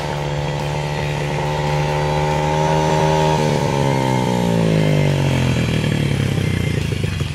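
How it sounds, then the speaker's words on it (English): A dirt bike engine roars loudly up close as the throttle is worked, its pitch rising and holding, then sagging and climbing again in a continuous rev. "Listen to this bike. Give it a little throttle for me."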